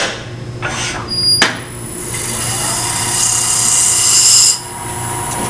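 Sandpaper pressed against a segmented wood turning spinning on a lathe, a close, steady hissing rasp that swells and then cuts off, preceded by a sharp knock and the lathe's hum.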